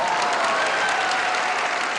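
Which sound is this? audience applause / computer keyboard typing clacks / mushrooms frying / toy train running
audience applause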